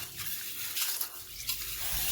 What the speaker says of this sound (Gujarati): હવે આ મગને આપણે બેથી ત્રણ વખત સરસ રીતે મસળી મસળીને પાણી વડે ધોઈ લઈશું